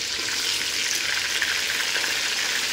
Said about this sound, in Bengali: তো এখানে চিকেনটা ভাজছি, ভাজা হয়ে গেছে, একটা একটা করে নামিয়ে নেব।